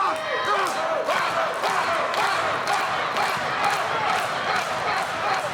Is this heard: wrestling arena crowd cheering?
yes